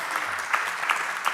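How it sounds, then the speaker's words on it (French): A crowd applauding steadily, a dense patter of many hands clapping at once, fairly close and continuous. "On applaudit."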